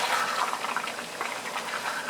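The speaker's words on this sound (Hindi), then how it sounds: "पानी शामिल करेंगे इसके अंदर 1 कप।" A cup of water poured into mutton karahi in a cooking pot, a steady liquid splash and sizzle with no pauses, fairly close and moderately loud, no voices.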